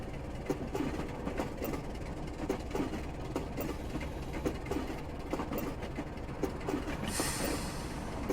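A Class 27 diesel locomotive works under throttle in Train Simulator Classic, running from Ardlui to Fort William. Its steady engine drone blends with rhythmic wheel clicks on the rails, and a brief hiss rises near the end.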